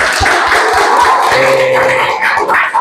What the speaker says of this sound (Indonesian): Itu tepuk tangan dong